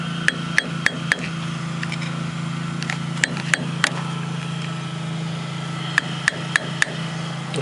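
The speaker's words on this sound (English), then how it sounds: "I'll use the screwdriver to finish tapping around it." A screwdriver taps a seal into place on a 2000 Corolla engine, giving sharp metallic clicks in small irregular clusters over a steady background hum, close and alone.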